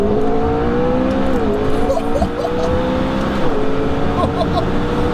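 A tuned 1014 bhp McLaren MP4-12C revs hard and pulls under heavy acceleration on high boost, a rising tone shifting through gears, loud and close, with a passenger's brief voice underneath.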